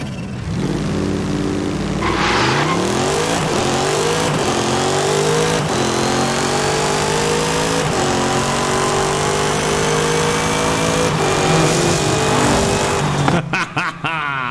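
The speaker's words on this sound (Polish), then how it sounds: "Dobra, sprawdźmy launch control." A race car in Forza Horizon 5 held on launch control, its engine droning and revving steadily at high pitch, then surging through rising gear pulls with a loud, continuous roar before cutting off near the end.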